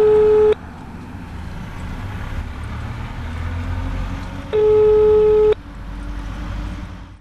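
A telephone busy signal heard when calling a management company: two loud steady tones, each about a second long, separated by a quiet gap of low rumbling background.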